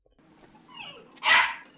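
A single dog barks in the Minecraft video game, a short yip near the end after a brief whine-like rise, moderately loud with no talk.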